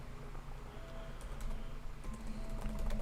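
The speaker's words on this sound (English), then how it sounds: "Probably typing it into the search box." Someone types on a computer keyboard during a livestream, entering a search in Google Earth: a quick run of soft, close keystrokes over a low room hum.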